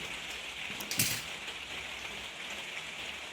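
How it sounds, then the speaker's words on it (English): Steady rain falls outside, a continuous soft hiss of drops on surfaces with a brief louder patter near the middle, heard alone without talk. "it's raining outside"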